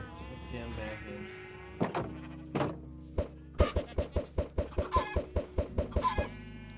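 Minecraft chickens cluck, mixed with sheep-like bleats and a rapid run of sharp thuds or hits in the second half, all layered over a steady low background hum.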